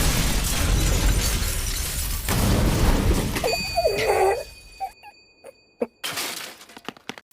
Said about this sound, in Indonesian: Dan seluruh drone itu pun hancur seketika.